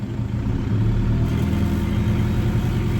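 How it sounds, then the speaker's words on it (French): A tractor's engine and hydraulics drive a hose reel winding in the hose, a steady low rumbling drone with a constant hum, close and even throughout. "avec l'hydraulique du tracteur, on va l'enrouler tranquillement."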